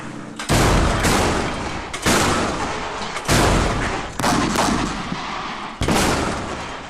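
Silver iodide anti-hail rockets launch from rice fields in a rapid series of loud, sharp blasts, about six bursts in a few seconds, each followed by a rushing roar.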